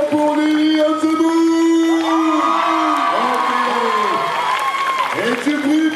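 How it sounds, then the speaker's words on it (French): An audience at a cosplay contest applauds and cheers loudly, with whoops and sustained yells riding over steady clapping throughout. "Tonnerre d'applaudissements pour Lily"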